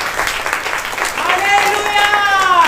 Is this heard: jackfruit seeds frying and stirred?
no